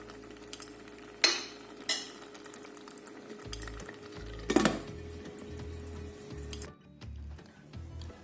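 Pepper chili sauce simmers in a pan with a soft, steady bubbling sizzle, joined by a few sharp utensil clinks and low thumps of stirring, fairly quiet and close.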